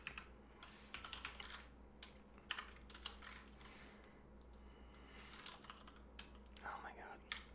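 Quiet rapid typing on a computer keyboard while coding in Python, irregular bursts of light clicks and key taps close by, with brief pauses between runs.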